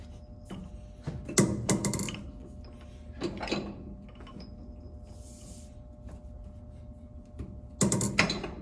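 A metal lathe tailstock is locked in place with a few sharp mechanical clunks and ratcheting clicks, close and separated by quiet stretches, with a final loud clatter near the end.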